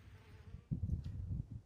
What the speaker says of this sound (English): It's good to see so many bees out here in the bush.